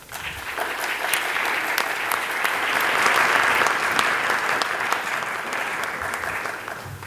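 An audience at a talk on reconciliation between Israeli and Palestinian women claps in a sustained round of applause welcoming a speaker, swelling slightly and holding steady for several seconds before starting to fade.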